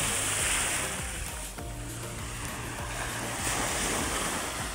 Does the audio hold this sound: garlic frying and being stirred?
no